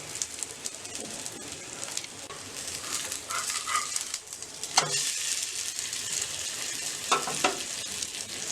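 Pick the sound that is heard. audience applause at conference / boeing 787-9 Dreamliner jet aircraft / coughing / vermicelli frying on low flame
vermicelli frying on low flame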